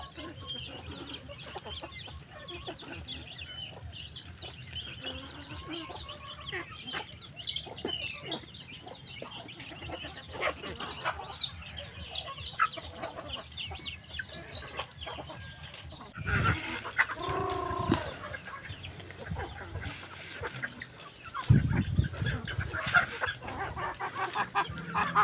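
Chickens clucking and squawking continuously close by while being fed, a busy flock with occasional louder calls and rustling movement.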